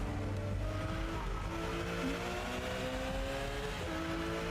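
A car engine in a racing video game, an engine-swapped Volvo, drones steadily and loudly at high revs with tire noise and overlapping pitch sweeps, heard alone without talk.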